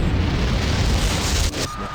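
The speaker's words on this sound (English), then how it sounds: "Yeah, that unsettling teleport." A teleport sound effect from the video game Doom 3 BFG Edition: a dense, roaring rush of noise that cuts off abruptly partway through, leaving a quieter hum with a faint tone.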